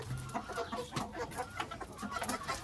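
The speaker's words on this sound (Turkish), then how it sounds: "Güzel ispenç yarkalarım var burada" Ispenç pullets clucking on a farm, soft and somewhat distant, with scattered short clucks and fowl chatter.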